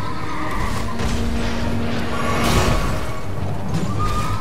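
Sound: horse neighing in Elden Ring video game

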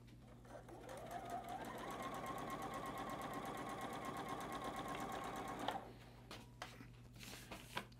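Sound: sewing machine stitching batik fabric quilt block

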